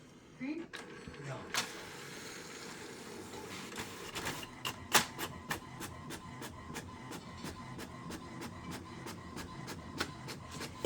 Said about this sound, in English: So it should go back in and it should print the other side